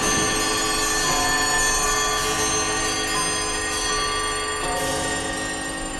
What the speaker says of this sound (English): It opens with the haunting chime of clocks, all individually recorded around London by engineer Alan Parsons.